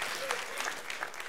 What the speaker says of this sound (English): You're going to want to clap for this, though.